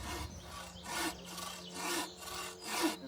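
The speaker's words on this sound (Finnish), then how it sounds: "Toki sahas huomaat, että kun se saha toimii niin itsellänsä." A handsaw cuts through wood in steady, even back-and-forth strokes, about four rasping passes in a row, close and unhurried, while building a terrace in the middle of a forest.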